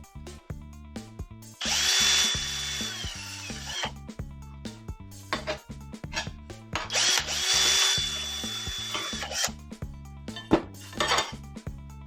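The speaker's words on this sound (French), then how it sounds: "je vais utiliser directement la visseuse." Cordless power screwdriver unscrewing a part on a Renault 4L during restoration, two sustained whirring bursts of about two seconds each, close and loud, between clattering metallic handling noises.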